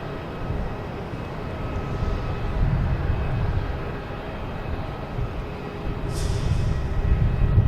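A Lufthansa airliner at Boston Logan Airport gives a low, steady engine rumble that stays moderately loud and fairly distant throughout, with a brief hiss near the end.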